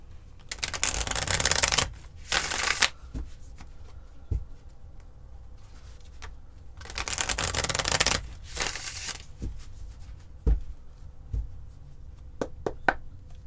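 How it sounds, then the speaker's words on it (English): A tarot card deck being shuffled in two long, loud riffling bursts, followed by softer card taps and light handling sounds, with no talking. "I'm being asked to shuffle the deck again."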